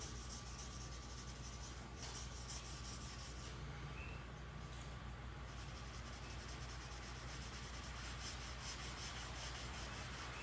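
Stain is rubbed by hand onto a wooden guitar body, giving a continuous close, soft rubbing and brushing sound with a steady back-and-forth texture and no talking.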